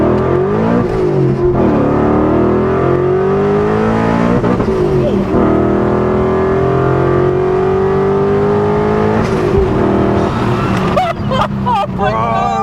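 A loud supercharged E39 BMW M5 engine roars and climbs in pitch through several gear changes, revving hard up close, with brief shifts breaking the steady drone.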